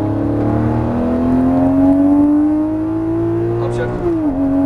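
A Lamborghini Murciélago at full throttle on the Exotics Racing track in Las Vegas, its engine a loud, close roar climbing steadily in pitch for several seconds before a brief dip near the end.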